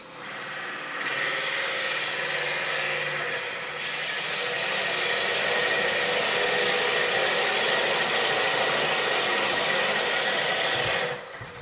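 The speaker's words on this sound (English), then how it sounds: "Put the speed down a little bit and start drilling." A steady, continuous grinding whir of a drill boring into wood on a lathe while making a peppermill, loud and unbroken for several seconds, easing off at the end.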